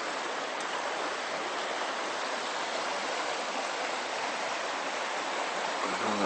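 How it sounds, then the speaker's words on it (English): A small river flows behind a set of rooms, a steady broadband rush of water that stays constant and fairly close with no talking. "As you can hear in the background, we've got our own little river."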